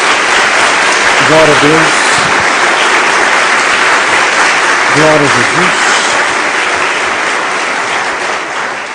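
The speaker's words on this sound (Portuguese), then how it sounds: "Dê uma salva de palmas a Jesus." Congregation applauding in a church service, a steady broad wash of clapping throughout, with a preacher's voice calling out praise twice over it.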